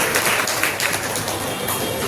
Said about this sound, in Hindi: एक बार जोरदार तालियां आप अपने साथियों के लिए